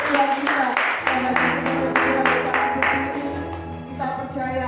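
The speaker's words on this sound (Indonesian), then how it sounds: "Kita tepuk tangan sekali lagi bagi Tuhan kita." A church congregation claps during a worship service. The clapping sits under a strong, tonal voice or music with a sustained, layered sound, and the hand claps are partly masked but keep a steady beat.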